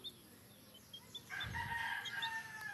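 A farm rooster crows once, loud and fairly close, after a quiet stretch with a few soft chirps.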